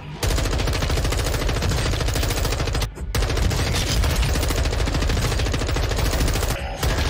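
M4 assault rifle firing in Warzone 2 gameplay, a loud, dense stream of rapid automatic shots that runs almost unbroken for about seven seconds, with one brief pause near the middle.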